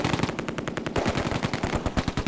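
Rapid machine-gun bursts from a German MG in the wartime strategy game Close Combat: A Bridge Too Far, loud, close and continuous, with dense rattling volleys and no talking.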